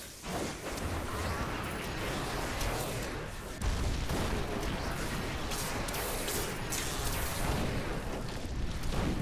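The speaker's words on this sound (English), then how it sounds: "I care not for explosions. As they pop in his face." Dense, continuous crashes and booms of spell explosions in Diablo 3 hardcore wizard play, a loud unbroken barrage of blasts with a sharper surge of impacts partway through.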